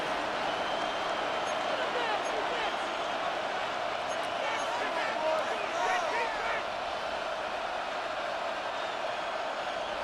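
Virtual stadium crowd in Madden NFL 26 cheering during an American football game as third down approaches, a steady, dense roar of many voices throughout, with a play-by-play commentator talking over it.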